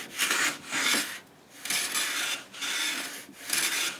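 A bench plane blade scraping and catching on a wood surface in repeated rasping strokes, about five passes with short pauses between them, close and moderately loud.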